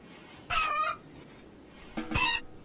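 Rooster in the video game RimWorld gives two short crowing calls about a second and a half apart, clear and fairly close over a faint background.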